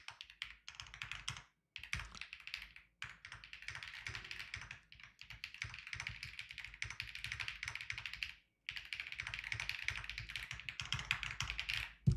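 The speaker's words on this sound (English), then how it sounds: "I'm typing up the alert." Rapid typing on a computer keyboard, dense bursts of clicking keys in quick runs separated by brief pauses, close and fairly quiet with no talking.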